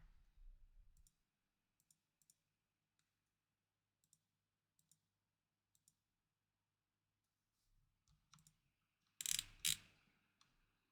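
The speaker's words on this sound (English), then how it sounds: "Currently I'm using my mouse, you can probably hear me clicking." A computer mouse clicks in sparse, faint single taps spread across a quiet stretch, followed by a louder cluster of handling and clicking noises near the end.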